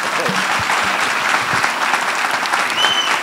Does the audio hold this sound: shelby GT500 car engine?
no